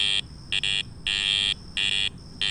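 Garrett Ace Apex metal detector gives its iron audio tone over nails, sharp high electronic beeps in bursts of varying length, five or so pulses separated by brief gaps, set against faint low background rumble.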